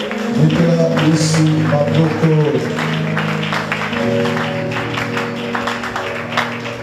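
A church congregation applauds during a worship service, steady clapping running under sung or spoken voices and sustained musical tones throughout.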